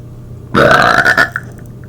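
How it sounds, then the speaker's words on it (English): A person lets out one loud, close burp lasting about three quarters of a second, with a short gurgling tail afterward. It stands alone against a quiet room hum. "I need a burp."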